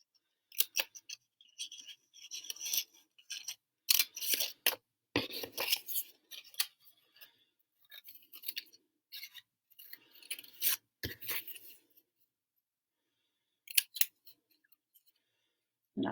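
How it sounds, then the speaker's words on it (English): Scissors snipping out paper Hebrew letters written in pencil, giving close, crisp bursts of cutting in irregular runs with brief pauses between strokes and a longer quiet gap near the end. "I'm now going to cut them out"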